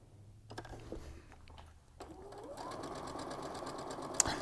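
A sewing machine stitches a quarter-inch seam along a quilting fabric strip; after a few clicks and handling noises the motor runs in a steady close buzz, with a short sharp tick near the end.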